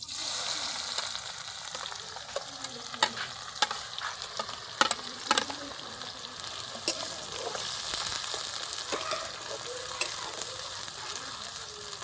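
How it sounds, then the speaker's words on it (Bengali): Onions frying in hot oil in a pan at a night picnic cookout, a steady close sizzle broken by frequent sharp clicks and scrapes of stirring throughout. "তেল আমাদের গরম হয়েছে, ছনমনি এর তেলে ঢেলে দেবো আমরা পেঁয়াজ।"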